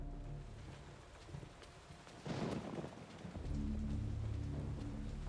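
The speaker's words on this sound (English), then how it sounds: "I do like the rain too, adds the atmosphere, the rain and thunder." Steady rain and rolling thunder from the video game Eternal Darkness, a dull wash that swells into a louder rumbling burst midway and then settles into a denser, continuous storm roar with no talking.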